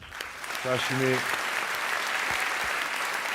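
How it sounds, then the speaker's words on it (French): Steady applause from a stand-up comedy audience fills the clip, a dense wash of clapping with a short voiced tone rising near the start. "J'ai envie qu'on t'applaudisse"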